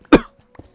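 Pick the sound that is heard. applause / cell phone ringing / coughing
coughing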